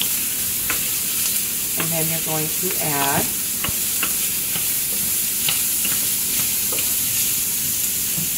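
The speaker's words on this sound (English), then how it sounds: "Keep stirring it. Just keep sauteing it in there." Garlic sautés in hot oil in a pan for shrimp paella, a loud, continuous sizzle broken by stirring clicks and scrapes, while a person talks over it briefly.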